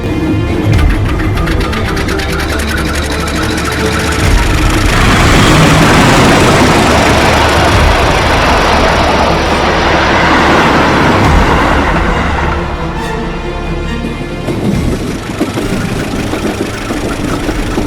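A locomotive engine starts up and runs in a loud, continuous, heavy rumble with mechanical clatter. The sound swells in the middle and eases slightly toward the end.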